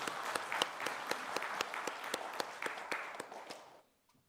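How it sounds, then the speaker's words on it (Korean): Congregation applauding during a Sunday church worship service, a dense steady wash of many hands with sharper claps standing out, then fading out toward the end. "박수하겠습니다."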